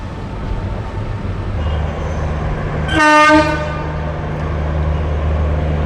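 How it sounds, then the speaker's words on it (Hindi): A train hauled by a powerful engine rumbles past on the line through Punjab toward Ambala, a heavy low drone with a loud horn blast midway. "हमारा हरिया भाई ट्रेन को लेके जा रहा है। बहुत ही पावरफुल इंजन।"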